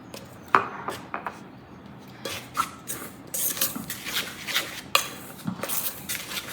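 Dough is mixed in a bowl with a spoon after baking powder and salt go in. Irregular scraping and tapping clinks sound close by, with a few sharper knocks against the bowl.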